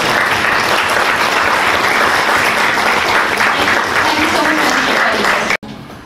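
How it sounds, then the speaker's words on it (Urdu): An audience at a white cane ceremony for the blind applauds the guests of honour in a loud, dense, unbroken roar of clapping that cuts off abruptly near the end. "ذرا ایک دفعہ آپ تالیاں بجا دیجیے"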